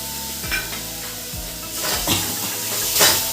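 Water poured into a sizzling spiced paste of chilli, a little sugar and salt in a pan, a loud steady hiss and sizzle with a few stirring scrapes and a surge as the liquid hits.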